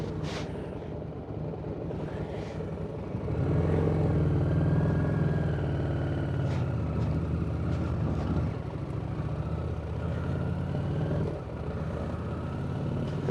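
A fully loaded adventure motorbike pulls away in first gear, its engine rising into a steady, close low rumble that holds for several seconds before easing off, with no talking over it.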